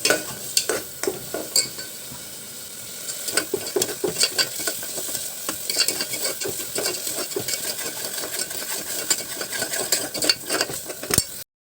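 An onion mixture frying in a pan while a spoon stirs it, giving a steady sizzle with frequent close scraping and clinking strokes against the metal, loud and with no talking.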